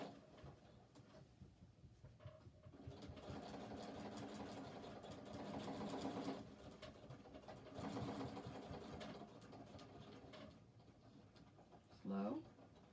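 A sewing machine stitches around the edge of a criss-cross shoulder bag in several steady runs, a close mechanical whirr with short pauses between passes, while someone talks over it.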